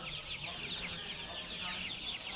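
Sonali super hybrid hens cluck steadily at a poultry farm in Khulna, a continuous overlapping chatter of soft, faint clucks with no distinct talking.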